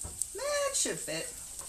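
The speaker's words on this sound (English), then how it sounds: "Do not stop mixing your rice or you will burn it. You want your rice toasted." Rice toasts in a pan while being stirred, with a soft sizzle running under a brief stretch of talk.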